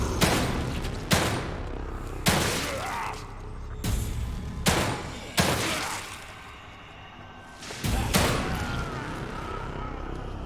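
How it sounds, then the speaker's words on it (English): Shock bolts fired in The Evil Within 2, several loud, sharp blasts spaced a couple of seconds apart, each with a short decaying tail, close and dominant with a voice faintly present. "if I'm going to shoot a shock bolt, I want to hit both of them"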